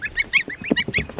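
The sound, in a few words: goslings (baby geese) calling outdoors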